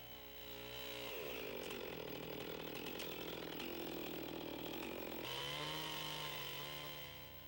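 A chainsaw runs steadily at high revs as it cuts to depth at the center of a practice notch in a log for a cabin, loud and close, with a pitch shift partway through and no talk.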